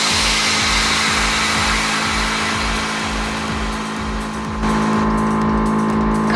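Air suspension on a custom 210-series Toyota Crown lowering the car, a loud steady pneumatic hiss and compressor drone with a pulsing low rumble, shifting in tone partway through.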